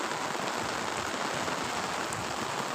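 Rain falls continuously over a village farm field, a thick uniform patter and hiss of drops on soil and crops, steady and moderately loud with no voices.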